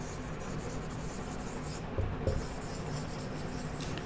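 Writing on a board during a class, a continuous soft scratching and rubbing of the pen or chalk, fairly close, over a steady room noise with a couple of light taps.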